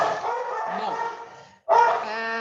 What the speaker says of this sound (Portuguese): eu tenho 2 cachorros que não se dão bem